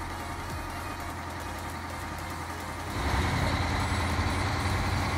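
A truck engine in the video game SnowRunner drones steadily at low pitch, then grows louder and rougher as the revs rise about three seconds in, with no talk over it.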